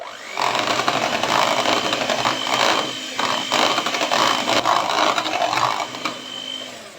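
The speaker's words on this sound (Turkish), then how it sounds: "Ve tekrardan çırpacağım." An electric mixer whisks cake batter for a strawberry sheet cake right after boiling water goes in, a loud steady motor whine that runs for several seconds with brief dips in pitch and level.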